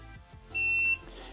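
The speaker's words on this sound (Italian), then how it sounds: "c'è un beep, secondo beep, a 10 secondi ci sarà il terzo beep." A single steady electronic beep of about half a second from Attila ATF 17.25 LI cordless battery pruning shears, loud and close, with a quiet background before and after.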